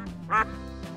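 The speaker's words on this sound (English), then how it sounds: "Some duck keepers warn folks that these poultry birds can become very noisy and loud." A domestic duck kept as pet poultry gives a single loud, nasal quack, short and close, standing out above a quiet background hum.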